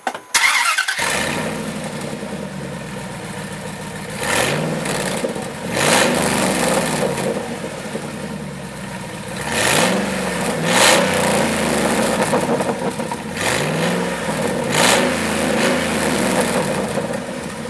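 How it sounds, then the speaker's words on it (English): A 2006 Dodge Dakota with straight-pipe exhaust starts up and revs repeatedly, a loud, raspy engine note rising and falling in several surges over a steady idle, with no talking. "We can start the truck up straight pipe and hear what listen to what it sounds like"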